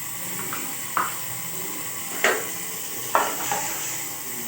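Butter sizzling in a pan at the start of a white sauce for pasta: a steady, bright hiss broken by a few sharp stirring clicks and scrapes.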